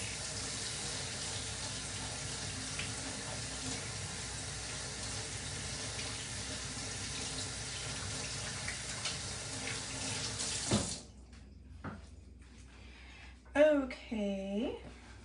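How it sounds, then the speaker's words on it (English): Tap water runs steadily into a kitchen sink during hand washing while baking cookies, a loud continuous broadband rush lasting about eleven seconds and then cutting off, followed by brief clatter and a short voice. "Let me wash my hands."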